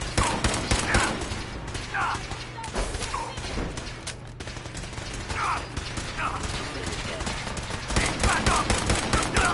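Rapid automatic gunfire in Fallout 4, sustained bursts rattling near and loud with mechanical clatter, nearly continuous across the stretch with brief lulls.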